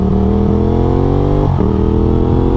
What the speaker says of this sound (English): At least I got a nice riding and good sounding bike to do it on.